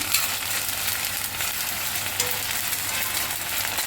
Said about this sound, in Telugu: కొద్దిగా పచ్చిమిర్చి ముందుగా వేసి, తర్వాత అల్లం వెల్లుల్లి పేస్ట్ అండి కలిపి